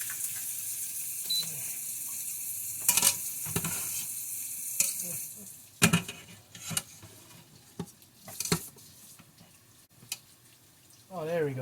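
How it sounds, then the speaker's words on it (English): Pot roast sears in a pot with a hissing sizzle, broken by sharp scrapes and clatters of stirring and handling, close by, with a brief voice near the end. "It's actually searing it."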